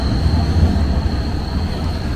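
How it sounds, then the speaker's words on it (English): A tram rolls past at Kaiserplatz in Karlsruhe with a steady, loud rumble and a thin high whine on a mild, partly cloudy day, with no talk over it. "another tram."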